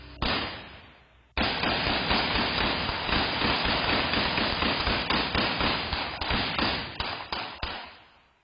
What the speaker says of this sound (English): gunshots ring out.